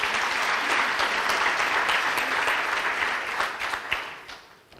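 Sustained applause at a university excellence awards ceremony, a dense steady clatter of many hands that holds for several seconds, then thins out and fades near the end.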